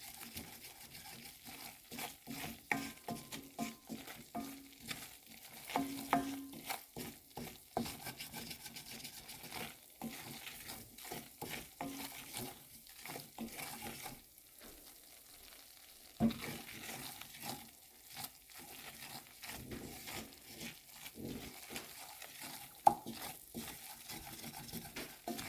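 Flour roux for gravy cooking over low heat on a gas stove, a quiet, soft sizzle broken by frequent scrapes and taps as it is stirred in the pan, with no talking.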